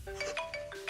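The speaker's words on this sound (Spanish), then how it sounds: "no hubo tiempo de dejar el celular en silencio y uno de ellos timbra" A mobile phone ringing in a quiet, tense scene from a monster film, a short melodic tone repeating in quick, evenly spaced pulses, close and clear.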